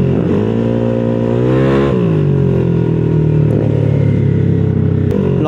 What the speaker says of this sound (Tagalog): Lakas ng motor niya, no?